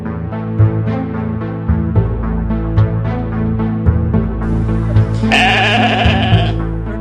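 Sheep bleat several times in short, repeated calls over a steady, sustained musical tone, with a brighter burst of sound near the end.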